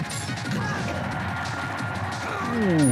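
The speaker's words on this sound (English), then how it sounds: "Ooh, that's an up smash." An up smash attack lands in Super Smash Bros. Melee: a sharp game impact crash over continuous game sound, with a rising sweep near the end and faint talk in the background.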